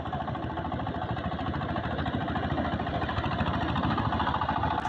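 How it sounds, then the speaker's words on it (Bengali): A small power tiller ploughs a wet village field in Tangail. Its engine gives a close, continuous chugging drone that holds steady throughout. "ছোট ছোট পাওয়ার টিলার দিয়ে জমি চাষ"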